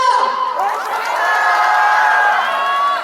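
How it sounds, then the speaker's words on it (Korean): A large crowd shouts and cheers together in a loud, sustained roar with voices rising in unison. "이 많은 대학생들 그리고 애국 시민은 자유민주주의와 법치를 수호하고자 한 목소리로 탄핵 반대를 외치고 있습니다"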